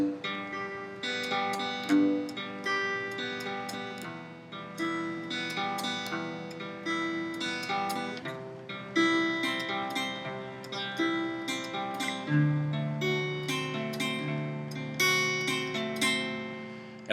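Acoustic guitar fingerpicking a one-measure pattern played through twice, with steady plucked notes and a bass pluck on the fourth string, heard alone at moderate loudness with a regular picking rhythm.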